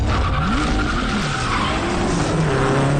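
A car in a gangster action film races toward a bridge, its engine roaring as tires squeal and skid in long sliding sweeps, loud and close throughout, with no talking.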